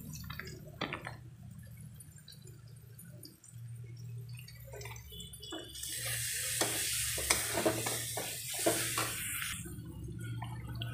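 Spices with turmeric, salt, green chilli and garam masala fry in a pan while being stirred, with scraping strokes and soft sizzling that grows into a loud, crackling fry partway through, heard close with no talking.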